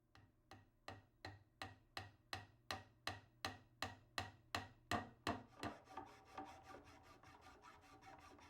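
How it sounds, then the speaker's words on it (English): Regular series of sharp hammer blows seating glued pins into a white oak barstool, about fifteen evenly spaced strikes close up, easing into softer scraping toward the end. "With the pins in place, we seat them with a few blows of the hammer."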